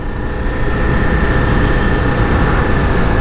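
A 2024 Ducati Diavel V4 motorcycle cruising in sixth gear gives a loud, steady engine drone with heavy wind rush and a constant whine, no voices over it.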